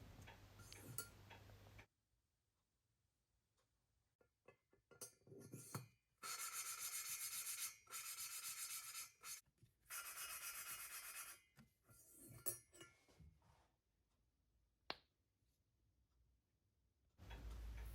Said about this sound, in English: use a rubber suction cup to press onto the valve to rotate it backwards and forwards to grind the valve in